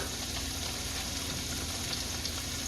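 Garlic sizzles in a hot pan with leftover flour from breaded chicken for cacciatore, a dense, even crackling hiss that is loud and close throughout with no voices.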